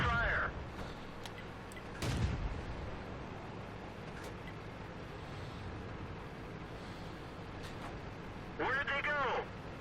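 An AMX 13 75 light tank fires its cannon in World of Tanks, a sharp booming shot about two seconds in over a low engine rumble, with a few smaller thuds and brief bursts of voice at the start and end.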